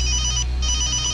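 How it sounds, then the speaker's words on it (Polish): A telephone rings in an electronic trill, loud and close, with a short gap in the middle before the tone resumes, heard alone with no talk. "Muszę odebrać. Czekałem na ten telefon."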